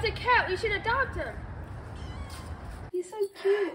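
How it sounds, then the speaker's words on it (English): A cat meows twice, close and clear, with a busy background hum, followed by another softer meow after a brief quiet gap. "Oh, that's a cat."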